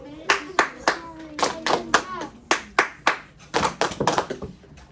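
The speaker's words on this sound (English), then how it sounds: "let's do claps first" A class of children claps in unison, sharp group claps landing in a rhythmic pattern of about fifteen beats, with young voices chanting along between them.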